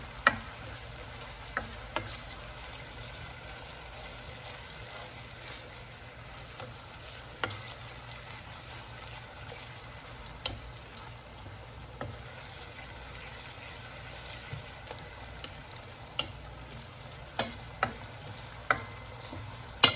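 Onion sautéing in a pan for butter garlic seafood, a low steady sizzle with occasional sharp ticks and pops, quiet and close, with no talking.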